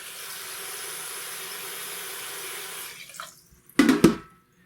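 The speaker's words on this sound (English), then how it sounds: "you want to get the water in there, up to that line" A steady rush of running water fills a Hario rice cooking pot over Japanese rice for a few seconds, fades out, then a couple of sharp clunks follow.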